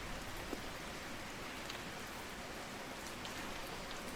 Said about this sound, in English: The rain is very loud.